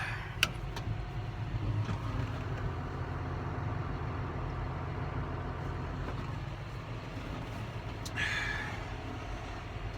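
A farm tractor runs with its PTO engaged to spread fertilizer, giving a continuous low engine rumble and mechanical drone with a couple of faint clanks.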